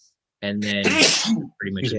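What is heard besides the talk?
sneeze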